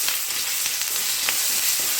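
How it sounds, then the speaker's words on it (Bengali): Garlic paste frying in hot oil gives a steady, close broadband sizzle with faint crackles and a light stir scrape, and no voices over it. "রসুনটা একটু ভাজা ভাজা করে নিচ্ছি যেন কাঁচা গন্ধ না থাকে রসুনের"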